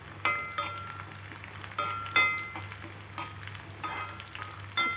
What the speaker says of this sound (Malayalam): അതായത് ഉള്ളി ഒന്ന് മൂക്കുമ്പോൾ നമുക്ക് ഈ മുളകും കറിവേപ്പിൻ്റെ ഇലയും കൂടി ഇടാം.